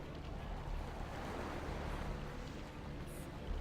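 Ocean surf washes steadily through a dark vampire video game scene, a broad, continuous rush of waves with wind noise, close and even in level, with no talking.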